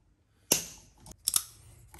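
One sharp snip cuts through electrical house cable during outlet wiring, followed by a couple of quieter clicks and snips close by.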